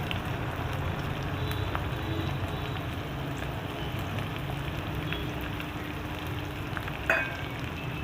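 Chopped onion frying in a pan makes a dense, continuous crackling sizzle close by, steady throughout, with one sharp clink of a utensil near the end and no voices.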